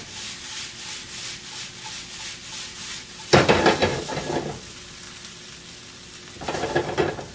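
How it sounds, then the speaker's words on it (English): Quinoa toasting in a hot pan, a steady crackling sizzle broken by two louder bursts of scraping and sizzling as the grains are stirred and tossed. "I like to get a little bit of a cook on the quinoa, get a little bit of crispiness to it"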